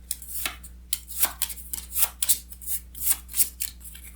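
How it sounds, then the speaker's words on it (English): Event cards for the RWBY Combat Ready board game being shuffled by hand, a series of quick riffling and sliding bursts in a loose rhythm, close and fairly quiet over a low steady hum. "Then I'll mix up the event cards."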